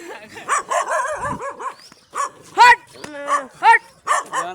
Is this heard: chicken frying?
no